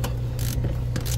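An insulated socket wrench ratchets on a battery terminal in a few quick clicking bursts, close up, over a steady low hum.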